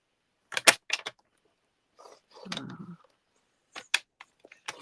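Cardstock strips for a fancy fold card being cut on a paper trimmer, a few sharp clicks and slides followed by a low scraping pass of the blade, then more crisp clicks, close and fairly quiet with no talking.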